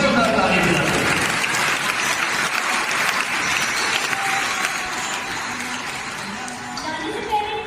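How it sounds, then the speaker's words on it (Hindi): A crowd at a Father's Day church drama gives a family loud, sustained applause that tapers slightly toward the end, with voices mixed into the clapping. "हम इस खानदान के लिए एक बार फिर जोरदार ताली बजाते हैं।"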